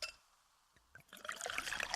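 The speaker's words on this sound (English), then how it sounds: "Listen to that endless pour." Pepsi Zero Sugar cola poured into a glass in a courtside ad at a women's college basketball game, starting after near silence and building into a bright, steady fizzing pour over the last second.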